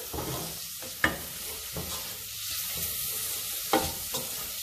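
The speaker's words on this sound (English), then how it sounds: "we're gonna go ahead and turn that heat down just a little bit. And again, constantly stir." A spoon stirs onions and carrots through tomato sauce in a pan over lowered heat, giving a steady close scraping and soft sizzle with a few sharper knocks against the pan.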